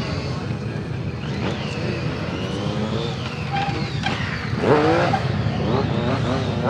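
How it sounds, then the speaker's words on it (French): A stunt motorcycle set up for acrobatics revs at a motorcycle show in Montbéliard, its engine note rising and falling continuously over a noisy crowd, with a louder surge near the end. "Donc on repart sur cette moto qui est vraiment préparée pour l'acrobatie."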